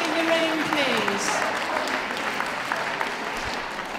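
Spectators at a hound group judging ring at a dog show applaud as the dogs leave, a steady broad wash of clapping heard throughout while an announcer keeps speaking over it early on.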